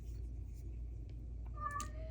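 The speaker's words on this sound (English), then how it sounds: "My cat's being dramatic, so if you hear him in the background" A cat meows in another room, a faint, distant call near the end over a low steady hum.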